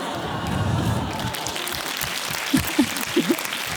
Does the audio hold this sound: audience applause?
yes